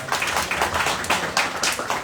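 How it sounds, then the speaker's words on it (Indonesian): A small group claps in a short, uneven patter of hand claps lasting a couple of seconds. "Tepuk tangan buat Kang Beni."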